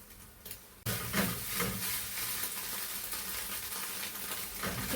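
Moringa leaves and beaten egg being stirred in a hot pan for a stir-fry, a steady close sizzle with scraping stirs, starting after a brief quiet moment and continuing evenly.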